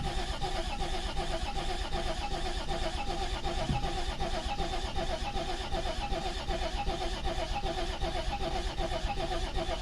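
An old barn-find Volvo 740 TD diesel engine with 10-year-old fuel being cranked, a steady, even churning that runs the whole time without catching or firing up.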